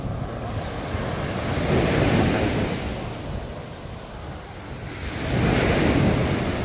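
On a choppy sea, waves surge and wash in rolling swells, with heavy wind buffeting the microphone and no voices.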